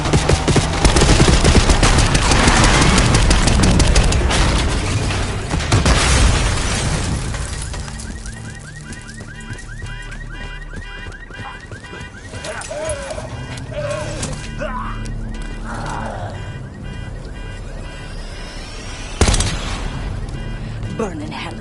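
Dense, sustained gunfire and explosions in a PS5 video game, loud and continuous in the first part, then thinning to scattered bursts and a late sharp blast, with game voices talking over it.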